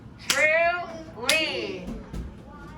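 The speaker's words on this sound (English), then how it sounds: "Clap it out." Children in a spelling lesson clap out a two-syllable word: two sharp hand claps about a second apart, each accompanied by voices speaking in time, followed by a softer tap.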